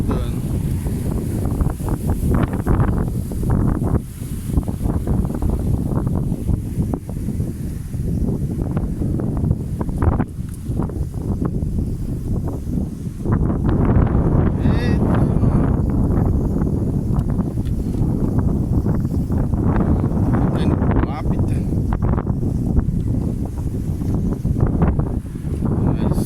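Strong wind buffets the microphone outdoors, a steady loud rumbling roar with gusting surges throughout, while a voice speaks intermittently.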